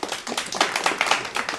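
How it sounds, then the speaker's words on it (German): Brief burst of clapping from a comedy show audience, a short ragged patter of hands lasting under two seconds, close and lively. "Unglaublich, ein Applaus."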